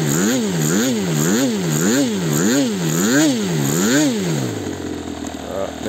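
Hirtenberger HP 61 model engine running on a test bench, loud and close, revving up and down in a steady repeating rise and fall about six times before dropping to a lower settle.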